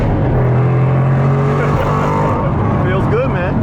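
A Roush-built 710 hp Mustang accelerates hard in second gear, its engine roaring loud and close with a steadily climbing pitch that breaks into a fast rising sweep near the end.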